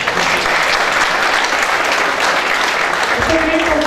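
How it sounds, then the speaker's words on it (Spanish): Audience applause fills a church teaching session, loud and continuous from start to finish, with a voice speaking over the clapping near the end. "Un aplauso, muy bien. Un aplauso."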